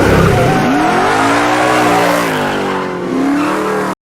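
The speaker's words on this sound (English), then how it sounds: "And then there's a muscle car coming up." Muscle car from a John Wick film scene rolling up close and loud, its deep rumbling engine gliding through rising and falling revs with a hint of tire noise, ending abruptly.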